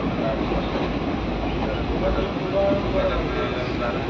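Steady rumble of an empty extra passenger train from LTT, Mumbai, running on rails, with faint squeals and rattles, close and continuous for the whole stretch.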